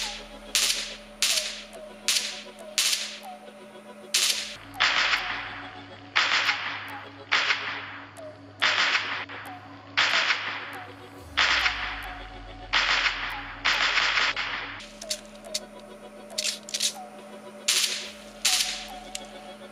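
Gunfire from the PUBG Mobile video game: a long run of sharp, crisp shots in quick single and paired bursts, loud and close, heard through wireless earbuds, with no talking.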